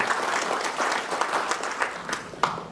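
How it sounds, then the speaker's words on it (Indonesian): Steady applause from an audience, dense and continuous for a few seconds, with occasional louder claps standing out. "Tepuk tangan buat Bapak Ibu semua."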